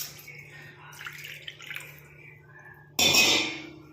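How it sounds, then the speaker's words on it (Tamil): Water poured onto rice in a cooking pot, a burst of splashing pouring near the end that starts abruptly and fades, after quieter trickles and faint drips. "நம்ம 3 கப் தண்ணி வந்து ஆட் பண்ணிக்கலாம்"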